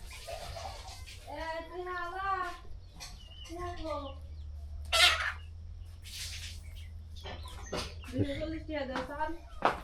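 Chickens cluck in repeated bursts at a chilly village market, close and clear, mixed with people talking nearby and a low background hum.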